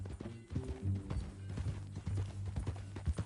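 A horse's hooves clip-clopping at a steady walking rhythm, faint and somewhat distant, with a low rumbling hum running underneath.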